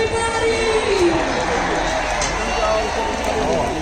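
Busy crowd murmur at the Hunar Haat craft and food market in Sector 17, Chandigarh, a steady loud wash of many voices and movement, with nearby talking over it.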